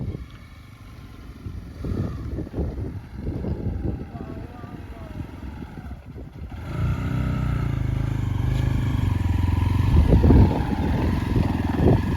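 Hero Xpulse 200 motorcycle riding along a ghat road toward waterfalls, a steady engine drone with wind rush that grows louder and fuller partway through, with a voice speaking over the early part.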